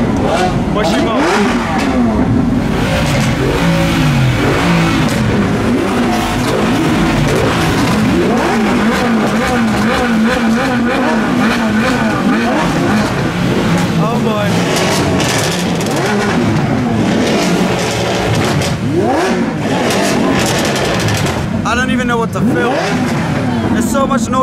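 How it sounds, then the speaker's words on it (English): A Lamborghini Aventador engine revs repeatedly, rising and falling in loud bursts close by, with people talking over the roar. "Aventador revving."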